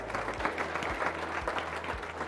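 An audience applauds at a business talk, steady clapping from a sizable crowd that holds at an even level throughout.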